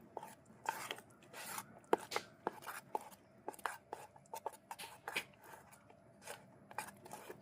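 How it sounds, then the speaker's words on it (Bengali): Biscuit cake batter with milk is mixed slowly by hand in a bowl, giving quiet, irregular scraping and sloshing strokes at a close distance, soft and rhythmic with occasional sharper taps. "এবার এটাকে আমরা মিক্স করবো আস্তে আস্তে"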